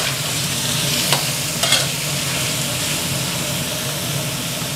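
Fresh squid and butterflied white shrimp stir-fry in a wok for stir-fried yentafo noodles, a loud steady sizzle close by with a couple of quick scraping clinks of the spatula.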